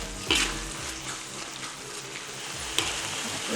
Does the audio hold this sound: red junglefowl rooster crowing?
no